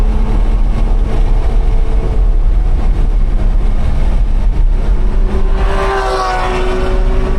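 Loud, steady engine roar of a race car taking the final corner, turn 15, at Monticello Motor Club's private track, held close with a rising pitch near the end and no talk.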